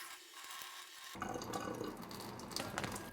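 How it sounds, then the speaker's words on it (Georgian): Boiled water being poured off cooked macaroni into a sink, a broad steady rush and splash starting abruptly after a near-silent second and continuing loud to the end. "მოკლედ, რომ მოიხარშება, ეს წყალი უნდა გადავღვაროთ."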